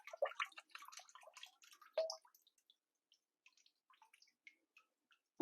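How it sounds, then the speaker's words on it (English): Water draining from paper pulp through a mesh mould while recycled paper is being made: faint, close trickling and dripping that thins out into sparse single drips, with no talk. "And you're going to let your water drain out."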